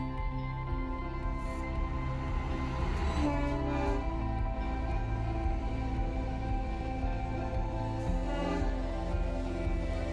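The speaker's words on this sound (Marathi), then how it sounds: "भारतातील काही मोजक्या टॉय ट्रेनपैकी एक म्हणजे माथेरानमधील टॉय ट्रेन" A toy train at Matheran hill station rumbles steadily along with a long, loud horn sounding over the running noise, close by and continuous.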